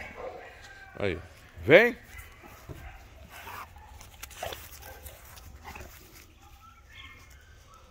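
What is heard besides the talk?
female dog moving around and barking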